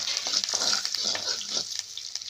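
Spices in hot oil being stirred in a pan on a wood-fired stove for dry okra curry, a bright sizzling hiss with short scraping strokes, fading toward the end.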